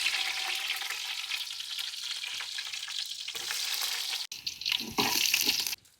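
Sliced shallots and mustard seeds crackling in hot oil, a bright steady sizzle close up, then a short break and louder popping spatter with stirring near the end.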